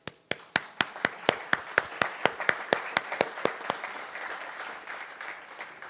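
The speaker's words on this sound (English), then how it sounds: "Hand of applause." Applause at a startup accelerator cohort kickoff event, led by one loud, close clapper striking in a steady, evenly spaced rhythm over a softer wash of crowd clapping that gradually dies away.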